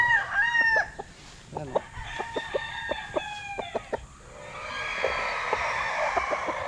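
A young gamecock stag crows loudly and close by, several clear cock-a-doodle-doo calls in a row, with clucking and other fowl sounds from a farm behind it.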